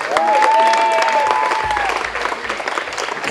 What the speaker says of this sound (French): Merci de les applaudir pour le travail qu'ils font.